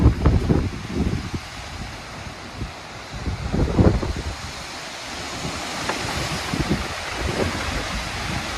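Powerful 60 to 70 mph wind gusts tear through Pullman, Washington in a dust storm, roaring and buffeting the microphone in surging waves with scattered rumbling hits, loud and continuous with no talking.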